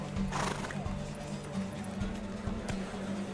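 Horse hooves pounding during a horse race in the Witcher 3 video game, a steady galloping clip-clop with a whinny, mixed with game ambience.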